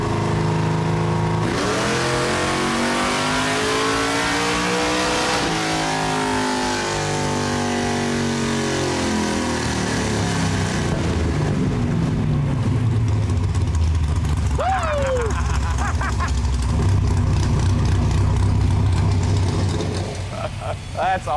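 Sleeper Ford Granada engine on a chassis dyno, revving hard in long climbing pulls through the gears to high RPM, loud and close, then settling back, with a voice briefly heard over it.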